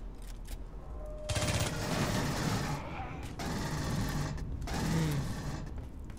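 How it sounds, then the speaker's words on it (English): Gunfire bursts from the Aliens: Colonial Marines shooter game, sustained rattling volleys at moderate level running through most of the stretch, with brief lulls between bursts. "Who's shooting at me?"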